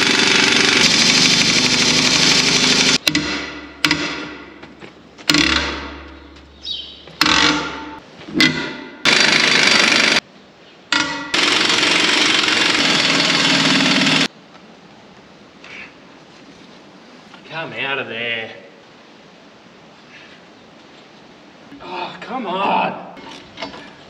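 A small impact wrench hammers at the track bolts on a John Deere 8370RT tractor in loud, rattling bursts separated by brief gaps, then stops; quieter background noise and voices follow.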